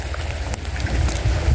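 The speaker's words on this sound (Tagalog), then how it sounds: "Ito na yung ulan, no?" Light rain falls during an outdoor fishing session, a soft continuous patter mixed with low rumbling wind or handling noise, fairly close and uneven.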